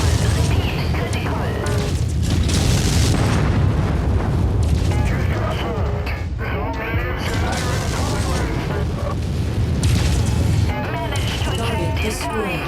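MechWarrior missile barrages slam into targets in a continuous, loud rumble of booming explosions and launches, with a voice speaking over the din.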